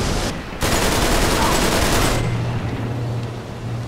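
Dense, loud bursts of rapid gunfire in the video game Uncharted: Drake's Deception, a close sustained volley that then tapers into a lower droning tail.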